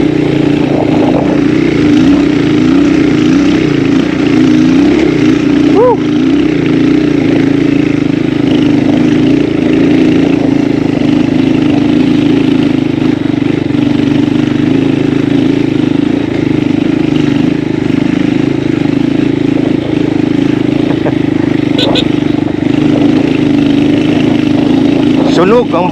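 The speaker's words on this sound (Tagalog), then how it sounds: "Ang lakas ng motor." A motorcycle engine drones steadily while riding along a mountain road in Nagtipunan, Quirino, loud and continuous with steady wind rush, and voices talking over it.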